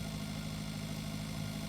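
Steady low rumble of a heavy farm tractor engine idling and running in Pure Farming 2018, a constant droning hum with light vibration, close and even throughout with no talk.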